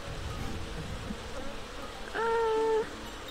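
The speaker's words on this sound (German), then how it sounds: "Hier gibt es viel zu viele Bienen und ich will mich nicht stechen lassen." Bees drone and buzz in a constant hazy hum in The Secret Order, with a brief higher tonal whine rising over the swarm near the end.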